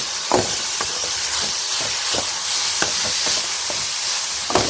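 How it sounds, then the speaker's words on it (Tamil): Cabbage sautéing in a pan for poriyal, a steady hissing sizzle close by, broken by repeated scrapes and taps of a spoon stirring against the pan, with no voices. "இப்போ இது நல்லா முட்டைக்கோஸு வதங்கணும், நல்லா வதங்கி வரட்டும்"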